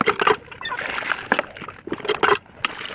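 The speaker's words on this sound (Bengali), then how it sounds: "এখন পানিটা দিয়ে নি" Water is poured out for farm birds such as ducks and pigeons, making quick uneven splashes and sloshes close by, with a voice speaking over it.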